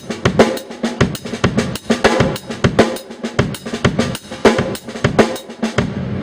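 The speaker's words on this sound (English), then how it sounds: "What I like to do is I always add ghost notes to it." Drum kit groove with quiet ghost notes on the snare between the main hits, a busy rhythmic pattern of loud strokes and soft taps played close and alone.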